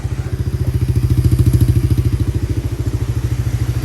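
A Kawasaki Mojave 110 ATV engine running on choke, a loud close rapid putter with an even pulsing rhythm that holds steady throughout, no voices.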